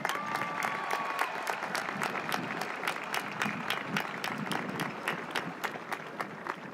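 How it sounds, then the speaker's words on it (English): Audience applause fills a high school graduation ceremony for the class of 2025, a steady wash of many hands clapping with sharp individual claps standing out, sustained and fairly loud for the whole stretch. "We have one more round of applause for our amazing staff."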